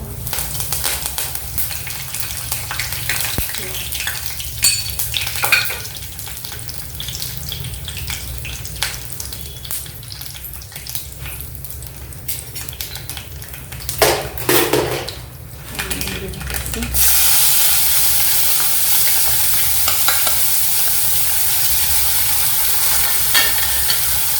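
Mustard seeds, cumin and curry leaves crackle and sizzle in hot oil with clinks of a spoon against the pan, then a steady loud hiss takes over near the end.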